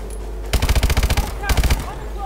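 Automatic gunfire in the video game Call of Duty: Advanced Warfare: two sharp rapid bursts of about eight and four loud shots, with brief quiet between and after.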